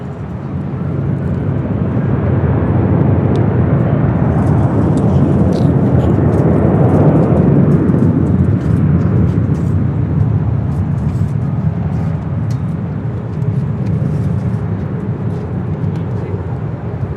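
A United airliner takes off from runway 24 left at Los Angeles International Airport, its jet engines a loud sustained roar that swells and slowly fades, with radio voices heard over it.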